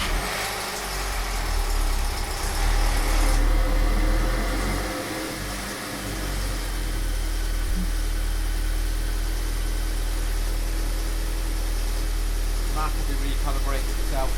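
A Seat Leon Cupra R fitted with a Pro Ram induction kit, after a fuel filter change, cranks and fires, then settles into a steady low idle with a deep engine rumble, with someone talking over it.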